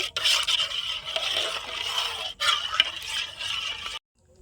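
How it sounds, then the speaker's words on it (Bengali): A metal spoon stirs powdered milk into hot water, scraping and clinking steadily against the vessel for about four seconds, close and fairly loud, then stops abruptly. "গুঁড়ো দুধটা ভালো করে জলে গুলে নেব এইভাবে চামচ দিয়ে ভালো করে আমি গুলে নেব"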